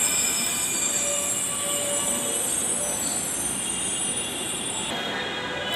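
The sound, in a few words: Dhaka metro rail train passing at station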